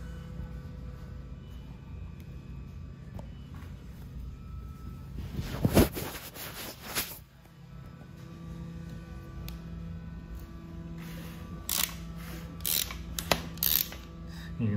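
Ford 5.0 Coyote engine turned over by hand, with ratcheting, clicking mechanical sounds and a clatter from the primary hydraulic chain tensioner over a low hum, close and fairly quiet.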